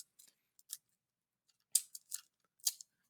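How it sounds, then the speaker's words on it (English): Scissors snip paper into small triangles for paper straw rocket fins, giving a handful of quiet, crisp, close cuts spaced irregularly, with silence between them. "usually I just cut little triangles out, and you can make fins to tape on there"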